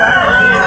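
A Bhimavaram rooster at a busy Sunday bird market crows in a single loud, short call amid market noise.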